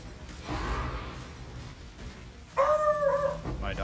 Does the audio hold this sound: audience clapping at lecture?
no